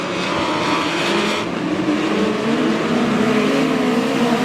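Midget race cars competing in an eight-lap qualifying heat at Lake Ozark Speedway, a loud continuous roar of engines from a dirt oval, steady and droning with a passing swell, no voices.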